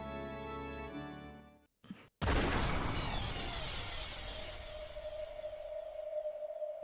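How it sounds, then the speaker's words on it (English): A single loud video game gunshot cracks out after a brief silence, followed by a long, ringing, reverberant tail that slowly fades. "the sound of gunfire rang out once"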